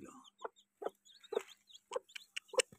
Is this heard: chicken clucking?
yes